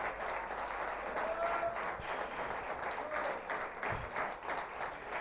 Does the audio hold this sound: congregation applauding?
yes